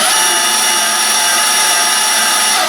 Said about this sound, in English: Pop a battery on the bandsaw itself, or if you're using a corded model, just plug it in, take it off of safety,